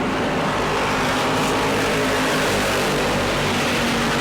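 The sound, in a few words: Bomber class race cars racing at New Smyrna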